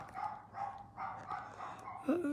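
A dog barks repeatedly from downstairs in a house, a series of muffled, moderately distant barks in a loose rhythm, ending with a brief higher yip or whine.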